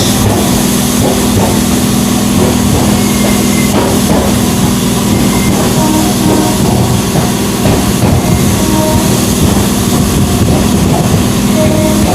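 A local train rolls into Princep Ghat station, loud and close from on board, with a steady rumbling drone, a low mechanical hum and a rapid rhythmic clatter of wheels over rail joints.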